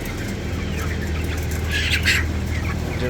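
Broiler chickens about 23 days old, weighing around 1.3 kg, squawk inside a farm's controlled shed, over a steady low drone; a denser cluster of calls rises near the middle.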